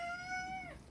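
A single house cat lets out one clear, drawn-out meow close by, holding steady before sliding down at the end, with no talking over it.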